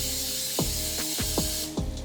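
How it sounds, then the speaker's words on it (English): Coconut oil is sprayed onto a cooking pan in four short, sharp mechanical bursts, evenly spaced and close up, with no talking. "I'm going to spray a little bit of coconut oil."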